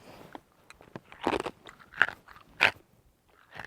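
Loud, close crunching bites of a crisp snack, a few sharp bursts spaced apart with quieter chewing between them.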